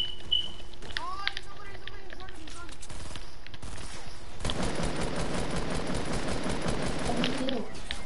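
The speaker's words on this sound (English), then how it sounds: "Somebody shooting me behind me" Sustained Fortnite gunfire erupting from behind the player, a dense rattling barrage growing loud in the second half after quieter game sounds.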